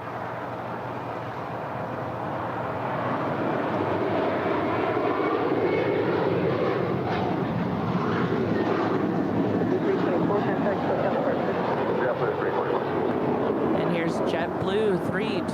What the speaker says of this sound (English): Blue 324 off to JFK. It's a 5-year-old A321.